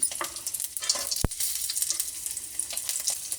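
Flattened rice being stirred and shallow-fried in a pan for a homemade snack mixture, with soft scraping strokes and a steady light sizzle, close and alone, plus one sharp clack partway through.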